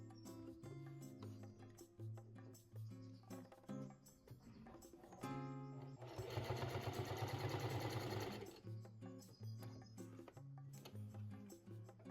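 A Singer heavy duty sewing machine hums and chatters in fast rhythmic bursts while stitching through 10 layers of denim, pausing briefly before a louder, denser sustained run in the middle.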